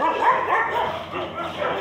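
A dog barks and yips near a residential gate, giving a few short, close, moderately loud bursts while faint background noise continues.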